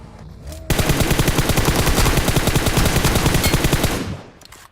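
A long, rapid automatic burst of gunfire in the mobile battle royale game BGMI runs for about three seconds as loud, evenly spaced shots, with someone speaking over the fire.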